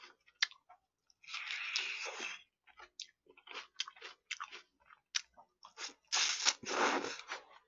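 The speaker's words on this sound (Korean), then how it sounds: "양파 그냥 찍어 먹어야 되겠다" Close-up eating of crunchy raw onion with fried chicken, with crisp bites, wet chewing and clicks in irregular bursts, some longer crunching runs, and quiet gaps between mouthfuls.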